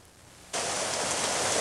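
Rain falling on a dreary day, starting suddenly as a loud, steady, dense hiss of drops that continues unbroken with no voices.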